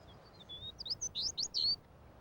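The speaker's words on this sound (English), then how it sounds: "They sing from the ground in low perches" Sparrows sing in a short run of high, thin chirps and whistled notes, fairly near but soft, over a quiet background of low rumble.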